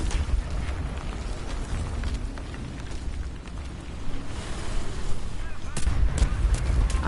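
Dull artillery booms and gunfire rumble through a War Thunder tank battle, a dense low-heavy barrage with sharper cracks near the end, continuous and moderately loud.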